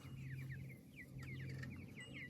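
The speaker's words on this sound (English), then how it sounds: "You see the chickens, Jim?" Meat chickens cluck and chirp nearby in a quick run of short, repeated calls over a low background hum.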